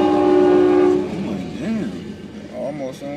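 A train passes nearby and blasts its horn, a loud sustained chord at first, followed by rolling rumble and fainter wavering horn tones, with some background voices.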